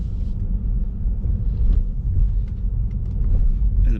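A Tesla Model 3 electric car pulls away from a Walmart parking lot, heard as a steady low rumble of tyres and wind with no engine note, close and continuous throughout.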